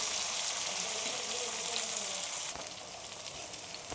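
Onions, ginger and tomato fry in a pan for atukula upma, giving a steady, close hiss and sizzle throughout with a few small clicks near the end.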